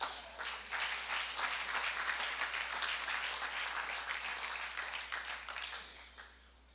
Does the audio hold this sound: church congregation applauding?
yes